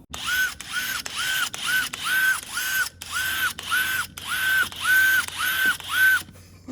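A power drill whirs in repeated short bursts, revving up and down about a dozen times in a steady rhythm, close by with no talking.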